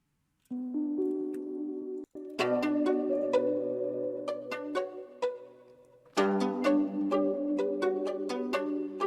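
A dark, sustained synth pad hums low beneath plucked melodic notes, the soft layer swelling in and holding steady under the brighter tones.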